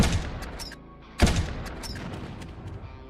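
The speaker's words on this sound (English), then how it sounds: "It always sounds like he's firing twice." Enemy gunfire in a video game cracks in quick bursts, each shot seeming to double up, with one strong close report near the middle over a low rumbling background.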